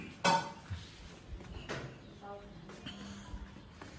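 Pots and dishes clatter in a home kitchen in Nepal as a meal is cooked: one sharp metallic clank, then scattered softer knocks and scrapes, with voices nearby.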